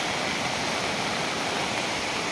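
A swollen river in flood rushes loudly after heavy rain, a steady, dense roar of churning water filling the scene without a break.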